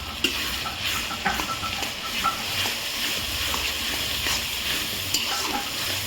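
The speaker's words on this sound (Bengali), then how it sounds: "রসুনটা ভেজে নিই।" Two spoonfuls of garlic fry in a pan with a steady close sizzle and frequent scraping stirs of a utensil, with no talk over it.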